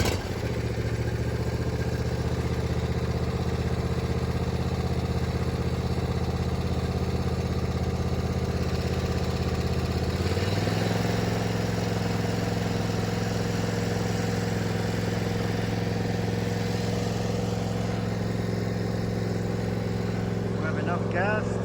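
A lawn mower engine runs steadily close by in a steady drone, with its pitch dropping slightly partway through, and people talk over it.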